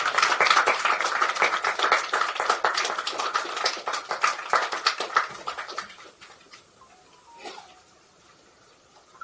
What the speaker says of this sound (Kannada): ಎದ್ದು ನಿಂತ್ಕೊಂಡು ನಿಮಗೊಂದು ಚಪ್ಪಾಳೆ ಕೊಡಕ್ಕೆ ಇಷ್ಟಪಡ್ತೀನಿ.